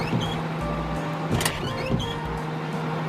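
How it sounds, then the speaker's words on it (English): A car door closes with a single solid thump amid a steady hum and faint mechanical whirring, with a couple of softer clunks after it. "Door."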